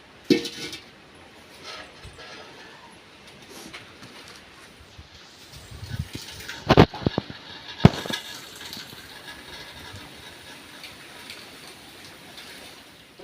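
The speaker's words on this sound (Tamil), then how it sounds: "இப்போ சாப்பாடை வடிச்சிடலாம்" Cooked rice is drained of its starchy water in a home kitchen, giving a quiet, steady trickle and splash with occasional light clinks of the pot.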